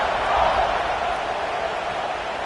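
Stadium crowd roaring before kickoff in an NCAA college football video game, a steady, dense wash of cheering that swells slightly early on and holds at a loud, even level throughout.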